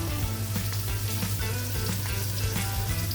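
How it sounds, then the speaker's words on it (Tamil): Eggs fry in a pan for a Sri Lankan home-style meal, giving a loud, steady sizzle with crackling pops throughout and no talking. "முட்டையை பொறித்து முட்டை பொறிக்க போகிறேன்"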